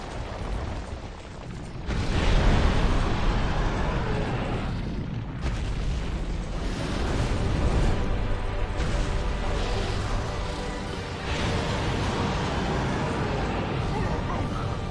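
Fire attack blasts in Dark Souls 2 DLC against a boss beyond a wall: loud, sustained roaring bursts of flame with a big swell after the opening, booming and rumbling continuously.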